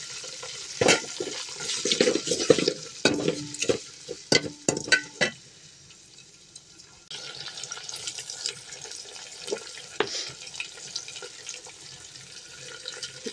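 Chopped onion and a sprig of curry leaves fry in a pan for fish kolambu. Sharp clattering stirs come first, then a continuous close hissing sizzle.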